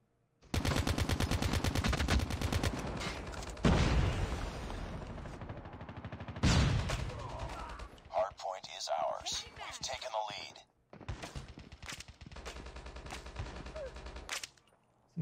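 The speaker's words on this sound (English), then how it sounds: "I'm gonna see if I can shoot a few of them from here." Rapid automatic gunfire and bursts of shots in the mobile shooter Call of Duty Mobile, loud and near, with a pause and later renewed firing, under quiet talk.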